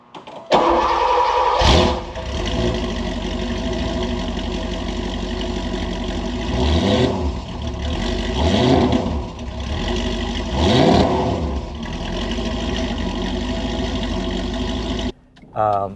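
A 1985 Porsche 928 S Euro V8 cranks and catches, settles into a steady idle, then gives three rising revs with a deep exhaust note before shutting off.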